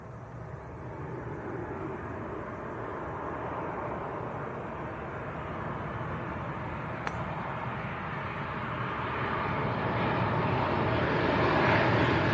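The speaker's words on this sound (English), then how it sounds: "Pretty smooth landing for Ryanair." Ryanair airliner from Parma landing at Leeds Bradford Airport, heard as a steady broad jet roar at a moderate distance that slowly builds louder toward the end, with no talking.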